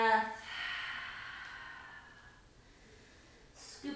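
A full, deep breath taken during a Pilates exercise, a soft breathy rush that starts strong and slowly fades, then a brief second puff of air at the end.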